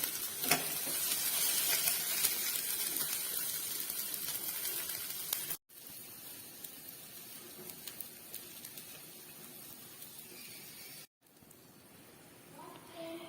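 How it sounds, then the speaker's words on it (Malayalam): Masala shawaya pieces fry in a pan on a low flame with a steady sizzle and crackle, the sound dipping in level twice through the stretch. "രണ്ട് ഭാഗവും ഇതുപോലെ ലോ ഫ്ലെയിമിലിട്ടിട്ട് മൊരിയിച്ചെടുത്തിട്ടുണ്ട്"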